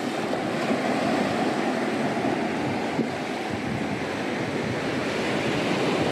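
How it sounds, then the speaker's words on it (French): Waves wash at the water's edge on a Spanish shoreline, a loud, unbroken roar of surf with some wind buffeting the microphone and no voices. "Sur un petit spot au bord de l'eau."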